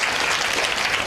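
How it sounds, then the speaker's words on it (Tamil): Loud, continuous audience clapping at a Tamil speech event held at a Subramaniya Swamy temple in Ambattur, Chennai, a short steady burst with no pauses. "நல்ல கைத்தட்டு கொடுங்க அந்த புள்ள"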